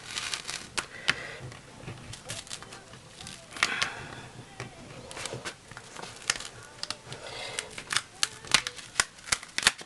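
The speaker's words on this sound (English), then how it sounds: "And then just peel it slow." Material being peeled slowly off a Brother ScanNCut cutting mat, giving a run of close, irregular crackling ticks and snaps that grow denser and louder toward the end.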